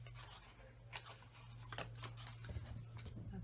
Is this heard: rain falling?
no